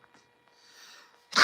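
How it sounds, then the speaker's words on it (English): A single loud, close sneeze bursts out at the very end, preceded by a short quiet stretch of faint breathy sounds as the sneeze builds. "when I go to sneeze, I feel like I sneeze about 5 more times"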